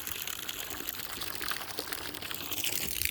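Steady running water from a tap at a pigeon loft, a continuous broadband splashing rush lasting the whole stretch at moderate level, with no talk over it.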